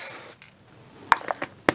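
A spray can of Axiom PTFE dry lubricant gives a short hissing burst at the start, followed by a few faint clicks and light handling knocks.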